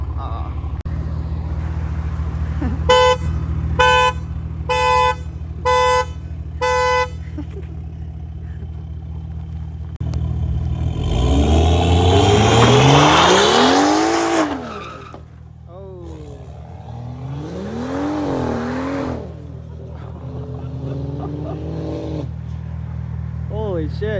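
A BMW with a B58 engine revs hard and sweeps past, its rising roar peaking loudly and then fading, followed by further revving. Tonal beeps sound earlier, and voices are present nearby.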